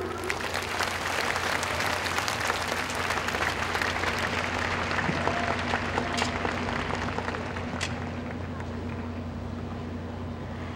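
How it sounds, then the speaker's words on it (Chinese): Warm, sustained applause from a large crowd of graduates and families at a university graduation ceremony, a dense steady roar of clapping from start to finish with a low hum beneath it. "请同学以最热烈的掌声再次谢谢刘兆玄会长。"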